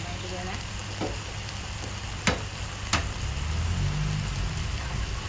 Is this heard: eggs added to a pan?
yes